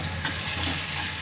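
An egg frying in a pan for a Telugu-style egg dish with raw plantain pieces and milk, a continuous close crackling sizzle with no talking.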